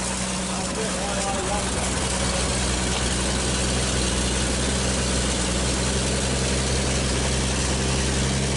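A 1939 Chevrolet Master engine idles steadily and loudly after its first start in 48 years, a continuous low rumble running throughout.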